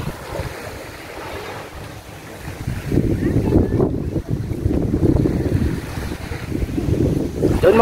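Strong sea waves surge and crash against a breakwater at a beach in Saipan, rolling, gusty surf loudest in the second half, with heavy wind buffeting the microphone.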